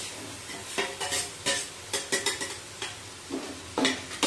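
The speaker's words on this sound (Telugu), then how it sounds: "ఆనియన్స్ పచ్చిమిర్చి వేయించుకోవాలి." Sliced onions and green chillies fry in hot oil for a Godavari-style fish curry, with a sizzle broken by repeated stirring scrapes and light clatters of a spoon against the pan.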